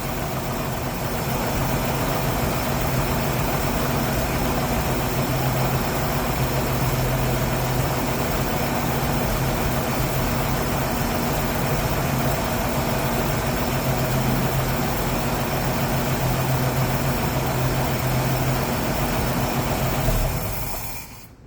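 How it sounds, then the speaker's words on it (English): A project truck's small motor idles steadily and evenly, a continuous low rumble held close and unchanging for about twenty seconds before cutting off abruptly at the end. "Good running little motor though"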